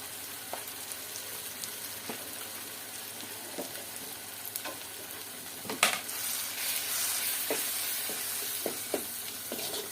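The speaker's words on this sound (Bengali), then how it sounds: "চুলার আঁচটা কম করে রেখে মশলাটা হালকা করে ভাজাভুজি করে নেব" Spices with garlic paste sizzle over low heat in a silver pot for a dried fish curry, a continuous crackling fry with occasional stirring clinks and a brief louder spatter midway.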